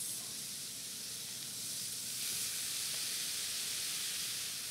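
Mushrooms and minced shallots hiss and sizzle in hot garlic-infused butter, a steady broadband frying sizzle that swells slightly midway and runs continuously with no talking.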